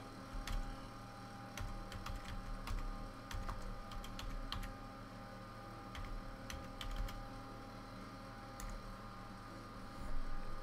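Keys tapped on a computer keyboard in short irregular bursts, close and fairly quiet, over a steady low background hum with no talking.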